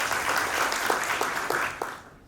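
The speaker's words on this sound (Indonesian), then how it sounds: "Tepuk tangan dulu." An audience applauds at a professional association congress ceremony, with brisk clapping that holds steady and then fades out at the end, heard alone without voices.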